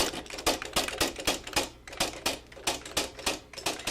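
A mechanical typewriter clacks in fast, uneven bursts of sharp key strikes, loud and close with no voices, in a continuous typing rhythm.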